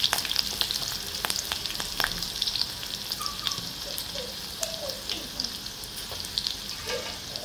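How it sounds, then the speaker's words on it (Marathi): Garlic, green chili and asafoetida fry in hot oil, a steady close sizzle with scattered crackles and pops running throughout, broken by occasional spatula stirs, with no voices. "आपलं लसूण छान परतलं आहे, यात मी मिरची घालते, थोडा हिंग घालायचा आहे"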